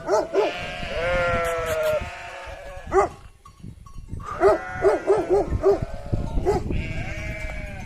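Sheep on a farm bleat repeatedly at close range, a series of wavering cries with short pauses between them, and other farm animal calls mix in among the bleats.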